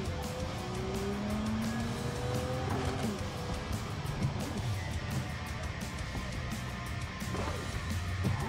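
Cyberpunk 2077 car tires skidding and scraping on asphalt amid engine noise and traffic, with steady mid-level rumble and several short screeching squeals over the whole stretch.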